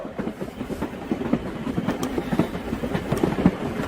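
A moving passenger train gives a steady rumbling rattle with repeated clickety-clack beats from the wheels on the rails, heard from inside the carriage with no talking.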